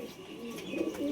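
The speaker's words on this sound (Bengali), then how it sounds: "এটা দাদার অনেক দিনের পুরনো পায়রা" A long-kept domestic high-flying pigeon coos softly and low in a few repeated murmuring phrases, fairly faint, with no one talking.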